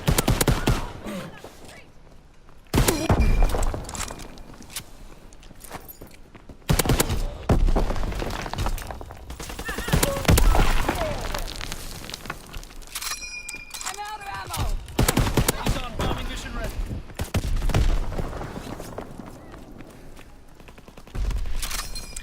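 Rifle gunfire from an M1 Garand in the World War II shooter game Call of Duty WWII multiplayer, with sharp shots and bursts scattered through a busy battle mix, some louder and closer than others.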